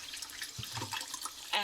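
Lukewarm water sloshing in a sink as hand-dyed yarn is washed with mild soap, soft continuous splashing with a brief brighter splash near the end, no talking.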